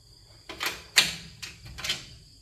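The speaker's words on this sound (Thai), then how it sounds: "ก็เปิดประตูออก" A door creaks and clunks open in a few short scraping bursts, close and fairly loud, with no voices.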